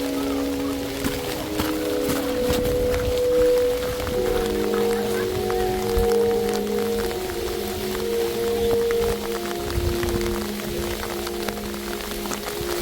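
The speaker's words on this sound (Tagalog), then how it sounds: "Grabe ulan dito." Heavy rain falls steadily at Jenny Lake in Grand Teton, a dense close patter with sustained tonal hum beneath, no voices.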